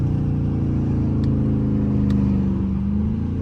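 Dodge Charger R/T 5.7 V8 downshifting into second gear as it slows to a stop, with a loud, close low rumble whose pitch shifts and settles over a few seconds.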